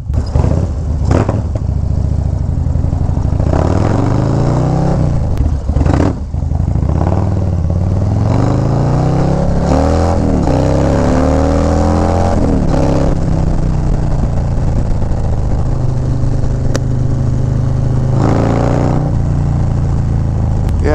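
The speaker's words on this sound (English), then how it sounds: "I don't feel the bike bogging at all either" Harley-Davidson Low Rider ST with a 131 engine accelerating hard on the road, a loud, close throaty rumble climbing in pitch through repeated revs and gear changes, with wind noise throughout.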